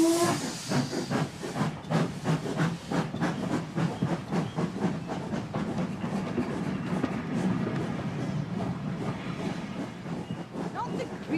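A steam train standing at a station gives a steady, rhythmic hissing and chuffing throughout, moderately near, with a faint whistle-like tone early on.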